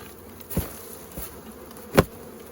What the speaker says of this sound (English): there's still bees in this box